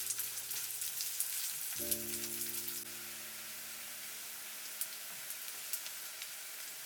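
Shallots sizzle and crackle steadily in hot vegetable oil in a pan over medium heat, a continuous close hiss with a low hum entering partway through, no voices.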